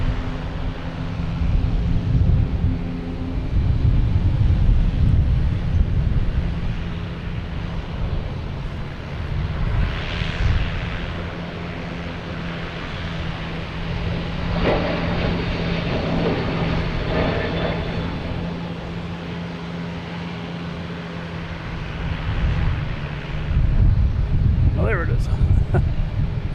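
A Delta Airbus A321 jet at Boston Logan Airport, a loud sustained low engine roar heard from a distance with wind buffeting the microphone, swelling and easing across the pass.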